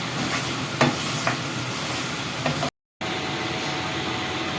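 Beef karahi frying and being stirred in a pan: a steady close sizzle with a few scraping stirs standing out, running alone with no talk and broken by a brief gap of silence.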